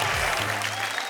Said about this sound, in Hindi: तालियां सुन आपकी ये हाथ करते बंदगी